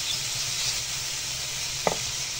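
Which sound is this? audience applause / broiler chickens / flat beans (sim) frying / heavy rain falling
flat beans (sim) frying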